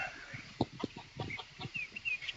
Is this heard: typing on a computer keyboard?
no